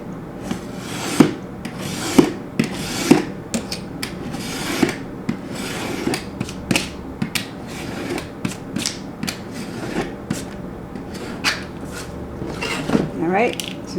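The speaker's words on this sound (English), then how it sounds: "We trim to the edge, and then we'll have to round the corners." Scissors or a trimmer cuts through paper notebook edges and rounds the corners, making repeated close scraping and snipping rubs with small sharp clicks at irregular intervals over a quiet room.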